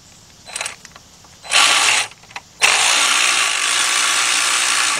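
Power ratchet removing a bolt during a timing chain replacement on a GM V6 engine; short buzzing bursts first, then one sustained loud whir spinning the bolt out, close up with no talk.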